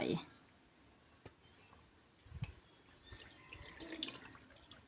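Liquid agar jelly pours into a cake mold to form the base of a flower jelly cake, a soft, close trickle and splash with light drips and clicks under quiet talk.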